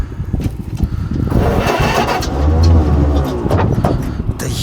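A GAZ-AA Polutorka truck engine is started with the key, a cranking churn that catches into a low rough running rumble, close and steady.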